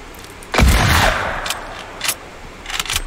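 A single loud hunting rifle shot in the Fortnite video game cracks sharply near the start and rings out into a long decay, followed by a few fainter distant pops and clicks.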